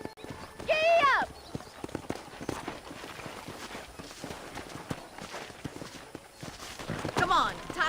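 Horse hooves clip-clop in a steady trotting rhythm throughout in the video game Red Dead Redemption, close and fairly loud, with short bursts of voice near the start and again near the end.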